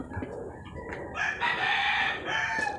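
Chickens cluck and a rooster crows nearby, a steady mix of fowl calls with a louder burst in the second half.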